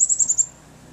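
Small birds chirp outdoors after a heavy snowstorm, Winter Storm Nemo, in Bangor, Maine, giving a quick run of about five high, bright chirps in the first half second, then quiet.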